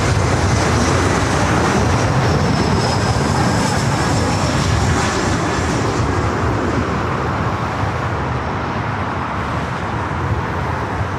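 A jet airliner on approach to land on runway 24 right at Los Angeles LAX airport gives a loud, steady engine roar that holds for the whole stretch, with no voices.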